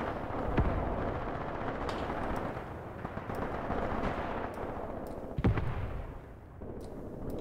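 Distant gunfire and explosions in the World War II tactics video game Graviteam Tactics. Scattered faint pops and thuds sit over a dense, steady rumble of battle, with no voices.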